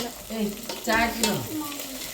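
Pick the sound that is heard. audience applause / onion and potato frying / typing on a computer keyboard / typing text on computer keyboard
onion and potato frying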